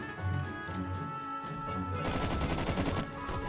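C7 LSW light machine gun firing in Phantom Forces, a sustained rapid burst of loud close shots starting about two seconds in, after quieter game sounds.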